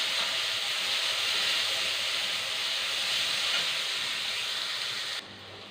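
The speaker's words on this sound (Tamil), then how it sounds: "வெங்காயம் போட்டுக்கலாம். வெங்காயம் நல்லா வதங்கணும்." Onions go into hot oil in a pan for sorakkai kara kuzhambu, giving a steady, close, bright sizzling hiss that runs evenly and then drops off sharply near the end.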